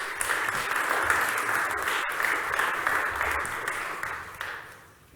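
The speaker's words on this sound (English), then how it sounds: "Please, huge applause to Pedro Diaz." An event audience applauds a speaker, warm continuous clapping that holds steady and then fades out near the end.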